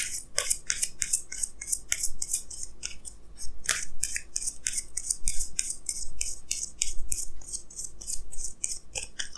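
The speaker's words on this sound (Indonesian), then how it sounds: "saya akan tarik lagi 2 kartu tambahan ya" Tarot cards drawn one after another from a deck during a reading, giving a steady run of crisp, close papery scrapes and slides that go on without a break.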